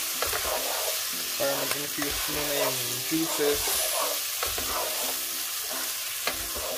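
Rice stir-fried in oil with chicken, garlic and ginger for Filipino arroz caldo, a steady sizzle with scraping stirs throughout, while a voice talks over it.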